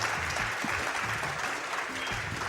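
Applause from a live crowd at a speedrunning charity marathon event, steady dense clapping filling the whole moment with a faint voice or two underneath.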